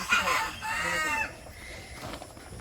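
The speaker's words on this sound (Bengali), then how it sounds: "আমার মোরগে ডাক পড়ছে ডাকে ককর ককর করতেছে" A village rooster crows nearby, giving one loud drawn-out call that lasts just over a second, followed by quieter outdoor background sound.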